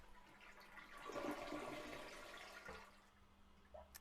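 A toilet flushing in a bed and breakfast bathroom, a moderately quiet rushing swirl of water that builds, holds, then tapers off with a few trickles and a small clunk near the end.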